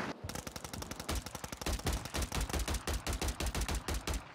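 Rapid, close gunfire in Warzone 3, a dense run of sharp shots firing in quick succession for several seconds, loud and steady with no talk.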